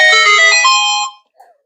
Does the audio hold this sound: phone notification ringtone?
yes